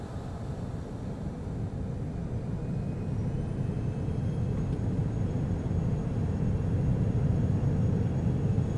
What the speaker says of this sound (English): Runway heading is 328 and we are cleared for takeoff.